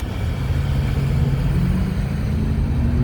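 A 2013 Mercedes SL550 engine accelerates hard in second gear, a loud, dense low rumble with a rising tone that holds steady throughout, with no talking.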